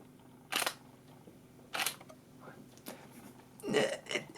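A Nikon D810 camera shutter firing in quiet mode, three separate muffled clacks spaced about a second or more apart, close up in a quiet room with faint handling noise between.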